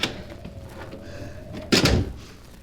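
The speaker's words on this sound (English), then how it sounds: "Here's a door. If it's only unlocked." A door effect from an old-time radio drama: quiet creaking and shuffling, then a loud, close thunk as the door swings open, tapering off quickly, with no voices.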